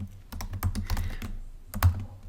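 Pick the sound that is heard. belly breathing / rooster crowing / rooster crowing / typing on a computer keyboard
typing on a computer keyboard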